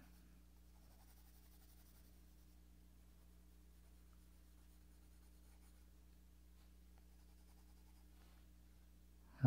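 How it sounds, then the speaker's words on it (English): A pencil sketches on etched stone paper with a faint, soft scratching that comes in short strokes over a quiet background hum, ending in a brief louder bump. "Just really testing out this paper and just doing a quick sketch."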